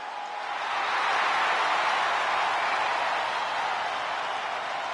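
Arena crowd in the video game WWE 2K25 at a SmackDown wrestling show: a broad, steady roar of cheering that swells after the first second and holds, with no clear voices.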